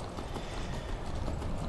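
Steady clip-clop of horse hooves in Skyrim, an even run of close hoofbeats filling the short stretch with no break, moderately loud and alone.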